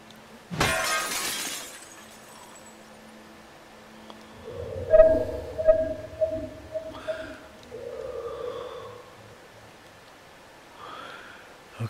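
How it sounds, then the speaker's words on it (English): Glass shatters in The Last of Us Part II with one sharp, bright crash near the start, then shards clink and tinkle over low rumbling and scattered debris sounds. "We're supposed to break the glass"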